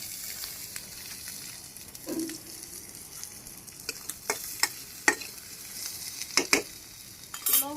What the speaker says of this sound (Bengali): পেঁয়াজ ভাজা হয়ে গেছে, শাক দিয়ে দিলাম।